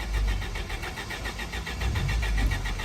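A Willys Flatfender Jeep crawling over rocks on the Behind the Rocks trail at Easter Jeep Safari, its engine running loud and close with a steady rapid pulsing rumble that surges slightly under load.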